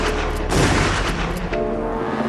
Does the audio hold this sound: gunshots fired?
yes